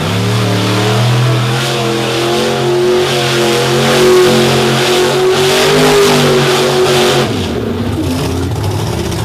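An IndyCar race car engine revs hard and loud during a freestyle run, pitch climbing steadily then dropping off, with sustained roaring close by.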